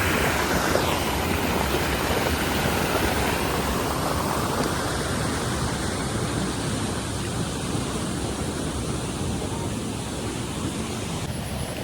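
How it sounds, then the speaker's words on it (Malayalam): A waterfall at a bathing spot on a family trekking trip gives a loud, steady roar of falling water that holds unbroken from start to finish, with no voices over it. "ഇവിടെയാണ് വെള്ളച്ചാട്ടം"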